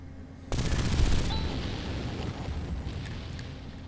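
Explode technique going off in the 16-bit RPG Phantasy Star IV, an abrupt burst of crackling, rapid-fire blasts that hits loud, then fades into a rumbling, noisy tail over game music.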